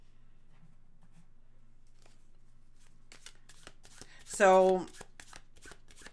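Tarot cards are shuffled in a quick riffle of close, crisp flicks building to a dense burst, with a brief spoken word just before.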